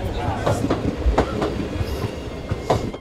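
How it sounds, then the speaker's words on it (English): Orient Express passenger train riding the rails on the way to Paris, a steady rumbling roll with rhythmic clickety-clack wheel beats on the track joints, heard from inside the carriage. "We are riding the rails right now on our way to Paris"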